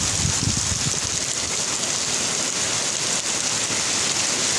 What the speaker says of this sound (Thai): ดีวันฝนตก วันนี้ตกหนักเลย